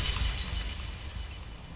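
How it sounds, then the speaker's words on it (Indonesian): Jade stone shattering as a sound effect in a Chinese donghua animation: a single sharp, bright shatter that fades over about a second and a half, heard alone with no voices. "Xiao Jing terkejut hingga membuat batu giok pecah"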